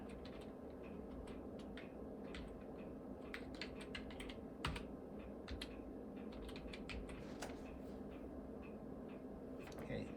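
Typing on an iMac G3 keyboard sounds as a quiet, uneven stream of light key clicks and taps close by, with small pauses between bursts and no talking.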